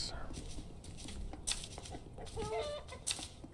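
Chickens clucking in the survival game Mr Prepper, short bursts of fowl calls amid steady background game noise.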